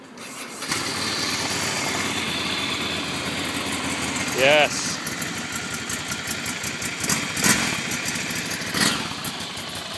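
A motorcycle engine fires up and settles into a steady, busy idle close by at a bike weekend event, with people talking over it and a couple of brief louder bumps.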